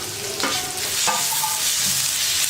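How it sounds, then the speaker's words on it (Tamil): Onions with ginger garlic paste sauté in a pan for poori masala, a close, steady sizzle broken by a couple of quick stirring scrapes, with no one speaking. "இப்போ இஞ்சி பூண்டு பேஸ்ட்டு போட்டுக்கலாம்"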